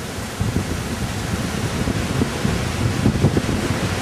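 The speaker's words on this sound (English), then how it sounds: "You can hear how windy it is up here today." Strong wind gusting across an exposed hilltop above a gorge on a hiking trail, a constant low roaring rumble buffeting the microphone with louder surges, no voices present.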